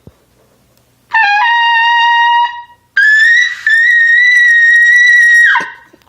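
A trumpet note blown with about half air, two sustained bright tones held loud and steady, the first about a second and a half long and the second longer, separated by a short breath, with no talking.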